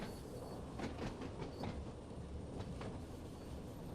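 Simulated passenger train on the Isle of Wight route in Train Sim World 2 runs over track switches, giving a steady rumble with rhythmic clickety-clack wheel knocks, close and continuous.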